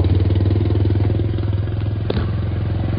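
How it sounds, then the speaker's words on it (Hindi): Motorcycle engine running steadily up close during a ride in New Zealand, a loud pulsing low rumble with a brief clatter near the end. "मैं जो हूँ ना बाइक पे जा रहा हूँ आगे"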